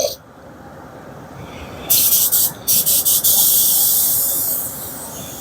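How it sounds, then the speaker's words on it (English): A spray gun shoots clear lacquer in a few short bursts followed by a long steady hiss of spraying, loud and close, over a low background hum. "Alright, here goes my clear coat."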